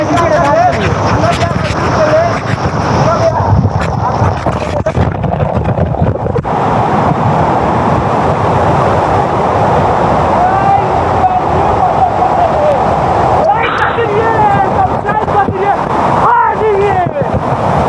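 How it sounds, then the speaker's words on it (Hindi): At Rohtas waterfall, water falls inside a cave in a continuous loud roaring wash that fills the space, while people talk over it throughout. "हम लोग वाटरफॉल्स के अंदर आ गए हैं, ऊपर से गिर रहा है"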